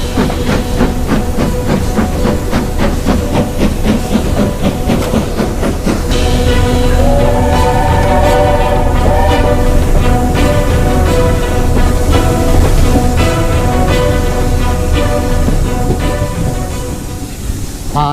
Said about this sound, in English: A good steam engine, look at that, eh?